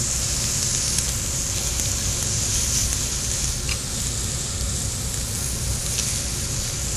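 Butterflied chicken sizzles on a hot grill with a steady, close hiss and crackle that runs unbroken throughout, with a few faint pops.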